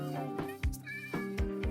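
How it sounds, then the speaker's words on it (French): A cat meows in a Minecraft-style block game, a few short repeated mews over a steady game background hum, with a thumping step-like sound between calls. "Oh y'a un chat mec."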